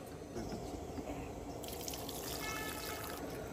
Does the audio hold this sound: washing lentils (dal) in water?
yes